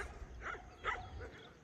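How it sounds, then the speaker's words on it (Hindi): Dogs at a livestock site in Saudi Arabia give a few short, faint barks and yips at a distance, separated by quiet gaps over a low background rumble. "कुत्ते रेडी है हमले के लिए"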